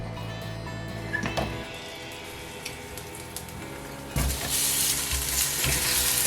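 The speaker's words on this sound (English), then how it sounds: "Sauté the garlic and onion." Garlic and onion sauté in hot oil in a large pan, a quiet steady sizzle with a few scraping stirs, then a louder, brighter hiss near the end.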